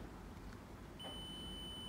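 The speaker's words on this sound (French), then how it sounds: "tu entends que ça bip" A car's 12-volt electrical buzzer sounds when the headlight flasher on the steering-column switch is pressed, a steady electronic beep starting partway through and holding as a continuous tone over a faint background hiss.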